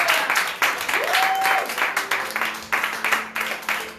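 Church congregation applauding during a Sunday worship service, a sustained wave of clapping in rhythmic bursts with a voice and faint tones heard over it.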